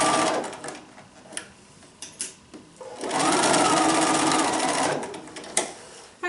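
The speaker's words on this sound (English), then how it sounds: "We're going to sew on the marked line that we had marked previously." Sewing machine stitching bias-cut quilt binding along a marked line, a steady mechanical whir running for about two seconds after a few short starts and clicks, close and fairly loud.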